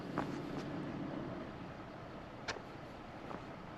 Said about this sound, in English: Pickup truck with the ice chest